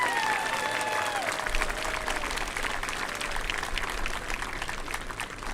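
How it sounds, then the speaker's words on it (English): A graduation ceremony audience applauds steadily for about five seconds, a dense, even patter of many hands; a few faint tonal sounds stand out at the start. "Please give them a round of applause."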